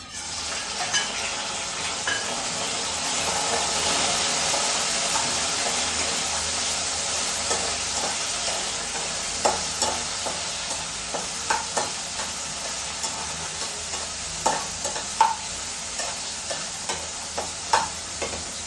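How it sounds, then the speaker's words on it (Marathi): Tomatoes frying in a little oil in a pan, a steady hiss of sizzling that grows in the first seconds, later joined by frequent sharp clinks and scrapes of a utensil, close up and without talk. "आता मी सुरुवातीला थोडंसं तेल घातलेलं आहे. आता मी टॅमॅटो घालते."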